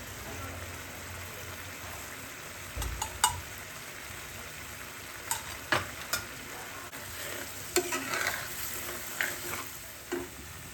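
Prawn malai curry with fried onions and a spoonful of ghee sizzles steadily in the pan, with scattered stirring knocks and scrapes over a soft bubbling hiss.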